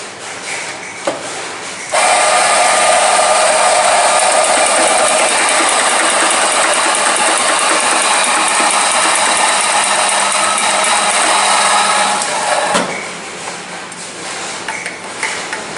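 An espresso machine flushes its group head with a loud, steady rushing hiss that begins abruptly, holds for about eleven seconds and then cuts off, leaving quieter background noise.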